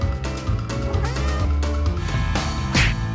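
A cat meowing from up in a tree, a few plaintive mews over a busy, music-like background of cartoon sound, fairly close and clear.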